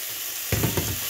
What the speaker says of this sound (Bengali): লঙ্কা গুঁড়ো দিয়ে এবার এটাকে ভাজবো।